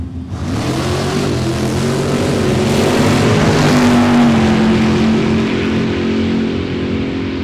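A Pontiac Tempest and a Mopar drag racing car roar down the strip at a dragway, loud, sustained engine howl with climbing pitch as they accelerate, then a slowly fading blare.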